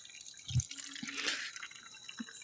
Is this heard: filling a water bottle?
yes